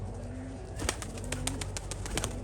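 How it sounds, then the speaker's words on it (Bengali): Pigeons at a loft as a black pigeon is flown, with soft low cooing and sharp, repeated flapping or clapping bursts at close range over steady background noise, no speech. "তো দেখি কালো পায়রাটা কেমন বাজি করে"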